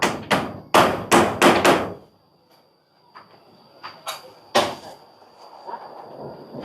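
Hammer blows ring out while a roof is being built, a fast burst of four or five sharp strikes followed after a pause by scattered single knocks, loud and close with a quiet gap between.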